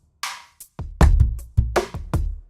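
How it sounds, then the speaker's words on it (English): A short drum groove, number 4 from the MegaMagic Guitars library, hits a quick pattern of deep kicks and sharp snares in tight succession, close and punchy, with no voices. "which means it's made to match with the drums from guitar groove number 4."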